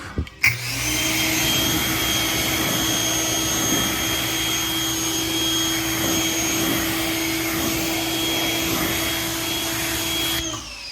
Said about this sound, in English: so we're gonna go ahead and rinse it off